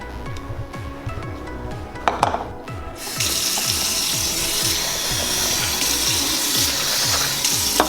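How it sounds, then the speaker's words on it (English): After some scraping and handling noises, a faucet opens and tap water gushes steadily into a bowl of rice, loud and close, continuing to the end. "I just stir it up so I can see how much more water I want to put in."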